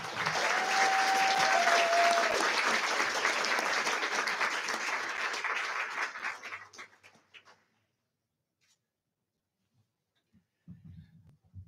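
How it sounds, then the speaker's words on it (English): Applause from a crowd at a commencement ceremony, steady and dense clapping for several seconds before tapering off and fading into silence, with a brief rustle near the end. "one more round of applause for our science candidates, please."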